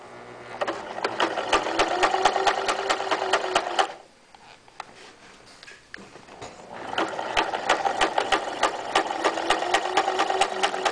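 A sewing machine runs in fast, steady rhythmic bursts as it stitches a fabric pocket on a locker caddy. The needle chatter pauses briefly in the middle, then starts up again, close and clear with no talking.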